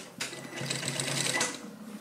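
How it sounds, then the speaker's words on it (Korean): A sewing machine runs a steady continuous stitch along a vest armhole seam, starting abruptly and holding an even, close whirring drone for about a second and a half before easing down. "여기서부터 이제 쭉 박을 거예요. 한번 박아볼게요."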